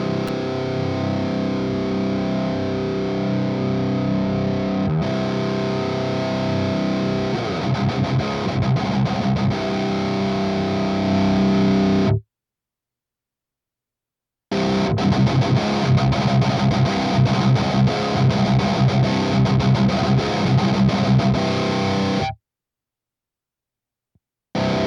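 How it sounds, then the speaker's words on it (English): Distorted electric guitar played through an Overloud TH-U software model of the Bugera 333 amp on Channel 3, a loud high-gain tone in two sustained passages separated by brief silences. "Now let's compare the Bugera 333 Channel 3 with the model they already have in here, Puntera 333 Channel 3."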